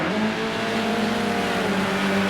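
Renault and BMW touring cars race in Project Cars 2, engines droning in a steady, loud whine with a rising tone across a short stretch, no voices.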